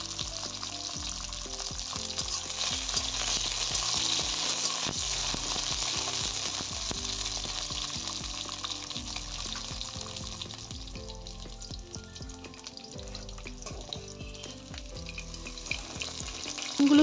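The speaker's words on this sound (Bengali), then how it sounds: "বেগুনটা আর উচ্ছেটা আলাদা করে ভেজে নিচ্ছি।" Brinjal and bitter gourd slices fry in hot oil for shukto, a steady close crackling sizzle with occasional stirring clinks that eases slightly toward the end.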